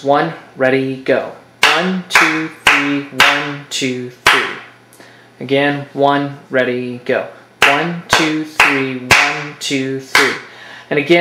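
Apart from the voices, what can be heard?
hand clapping a 3/8 rhythm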